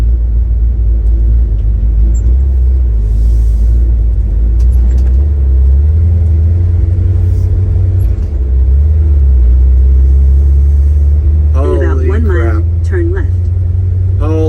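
A car with a worn U-joint, three of its four bearing cups left, rolls along a roadway with a loud, steady low engine rumble; a voice talks briefly near the end.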